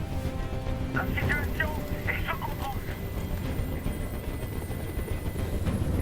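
A helicopter in the video game Detroit: Become Human drones as a constant low rumble, steady and fairly loud, while a voice speaks over it.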